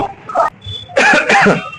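A couple of sharp, close coughs burst out after a brief throaty sound, loud and abrupt.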